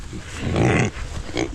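Pigs grunting on a farm, a short burst of low snuffling grunts rising and fading, close by with some background noise and no talking.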